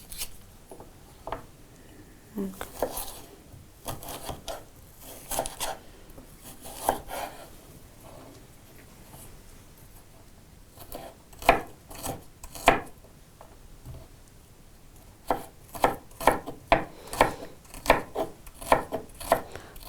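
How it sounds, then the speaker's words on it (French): A carrot is chopped into very small pieces with a knife on a board, sparse taps early, then quicker bursts of sharp close knocks in a steady rhythm toward the end. "Pour la carotte, je vais la découper en très petits morceaux"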